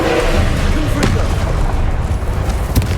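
A Confringo fire spell explodes in the Hogwarts Legacy video game, a loud low booming blast that rumbles through a dense, continuous battle mix, with sharper bursts near the one-second mark and again at the end.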